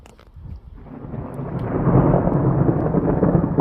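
Thunder during a thunderstorm builds into a loud, sustained rumbling roll, swelling after a quieter start, with rain hiss underneath and no voices.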